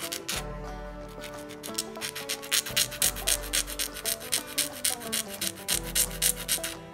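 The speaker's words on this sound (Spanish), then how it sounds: "Y la voy lijando de poquito en poquito y me la voy probando para no pasarme" Rhythmic scraping strokes of a file rubbing back and forth on an artificial nail, steady and close, with a faint low musical tone underneath.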